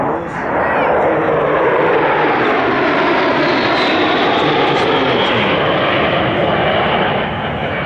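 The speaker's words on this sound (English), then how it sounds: "One of the most popular warbirds in the world, apart from what you see, is just taxied out right now." An L-39 jet warbird taxiing at the Warbirds Over Wanaka airshow gives a loud, steady engine roar and whine that holds close and constant throughout.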